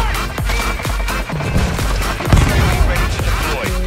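Rapid bursts of gunfire in a Call of Duty match crack in dense clusters over several seconds, loud and close, mixed with heavy impacts and game effects.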